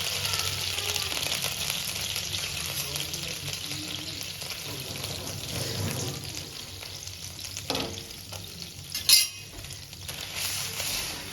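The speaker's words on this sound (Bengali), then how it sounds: "খুব গরম হয়ে গেছে এবার এক জল ছিটা দেবো জল ছিটা দিয়ে জায়গাটা ঠান্ডা করবো" Water is sprinkled onto a very hot pan, producing a steady hissing sizzle that runs throughout, with a few louder spits and a sharp clink of metal near the end.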